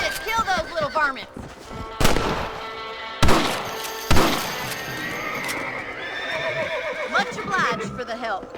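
Horses in the Western video game Red Dead Redemption neigh and whinny loudly, mixed with clip-clopping hooves and several sharp gunshots, with voices talking over part of it.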